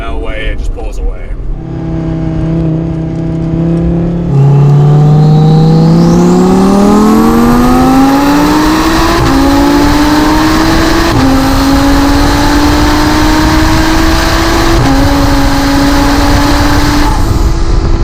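A stock Lamborghini Huracan and a twin-turbo Audi R8, both V10s, race from a rolling start on the street. Engine roar climbs steadily in pitch with brief steps at each gearshift, loud and sustained throughout.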